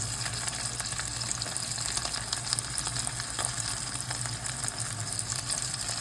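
Steak frying in a pan with butter over medium heat, a continuous dense crackling sizzle heard close and steady throughout, with no voices.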